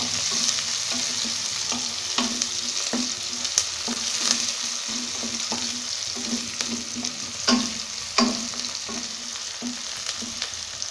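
Chopped onion, garlic and green chili sizzle steadily in a hot pan, with regular scraping strokes of a spoon stirring them throughout, close and continuous.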